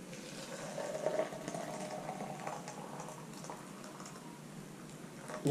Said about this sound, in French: On va mettre de l'eau chaude.